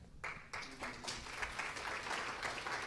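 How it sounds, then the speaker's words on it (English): An audience applauds at a panel event on presidential election results and U.S. Middle East policy, with steady, sustained clapping that fills the room for about three seconds. "I'm going to invite you all one by one so they can clap for you as you come up"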